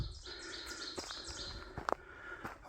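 Birds chirp and sing on a quiet hilltop during a hike, a few short calls standing out over soft, steady birdsong with faint background ambience.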